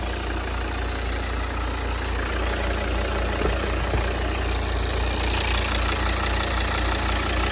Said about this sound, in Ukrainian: мотор працює чітко, рівненько, ніяких шумів